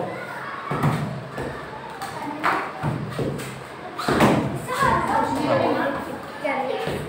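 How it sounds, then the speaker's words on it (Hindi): Karate kicks and hits land with repeated dull thuds during a martial arts class practice, mixed with shouting voices and the noise of a busy room full of children. "Faisal hit hit kick kick kick मारो"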